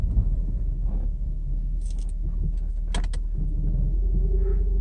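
A Mercedes 500SL engine rumbles steadily up close, a low continuous drone with faint rattles and a brief tonal rise near the end.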